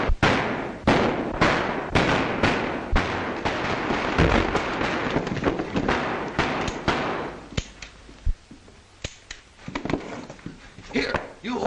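Rapid bursts of sharp gunshots crackle through a scene from a 1934 western comedy, dense and loud at first, then thinning to scattered single shots, with voices speaking under and between them.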